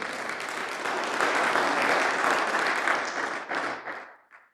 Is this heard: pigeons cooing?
no